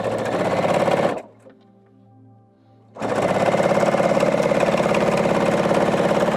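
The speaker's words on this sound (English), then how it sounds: "do another 1/4 inch seam there, like so." A sewing machine runs steadily while stitching a quarter-inch seam on quilt blocks. The close, even mechanical whir stops briefly for about two seconds, then resumes at the same pace.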